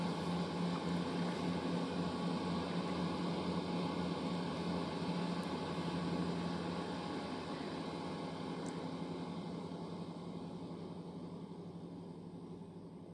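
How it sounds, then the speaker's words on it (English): A diesel train pulls away from Starcross station toward Newton Abbot, a steady broadband engine rumble and drone that holds for several seconds and then slowly fades as it moves off. "there goes a blasted diesel engine. Is a 126 service just departing off to Newton Abbot."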